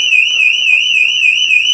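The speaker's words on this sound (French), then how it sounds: "On a une alarme incendie qui s'est déclarée dans le bâtiment" A building fire alarm sounds continuously, a loud, piercing warbling electronic tone that holds steady and goes on throughout without any pause.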